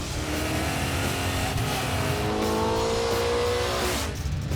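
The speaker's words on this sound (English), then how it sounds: "I'm driving the bank shift Cougar" A Mercury Cougar race car with a 363-cubic-inch Dart Windsor V8 roars along at sustained speed, loud and close, its engine note holding high and rising slightly before easing off at the end.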